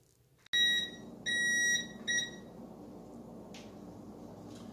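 An oven timer beeps after cornbread is set to bake: a sudden loud tone, then a longer beep and a couple of shorter ones, close by in a quiet kitchen with low background hum.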